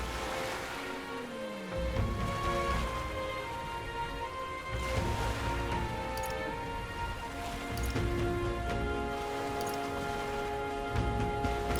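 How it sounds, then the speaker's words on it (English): Rain falls steadily in the video game Metaphor: ReFantazio, a soft, even patter layered under sustained tonal game music, with no speech. "This bloody rain."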